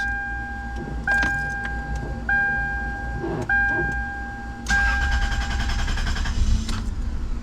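A 1996-2002 Toyota 4Runner fuel pump primes after a pump and filter replacement, a steady high electric whine that cycles on and off in several pulses, with clicks and rattles between.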